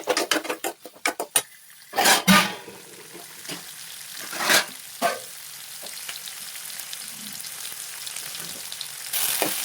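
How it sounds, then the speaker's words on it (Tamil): Onions and green chillies sizzle in a hot pan as they are sautéed, with a steady frying hiss and the stirring scrapes and clinks of a utensil against the pan, close and unaccompanied. "இப்போ இது நல்லா வந்து வதக்கிக்கலாம்."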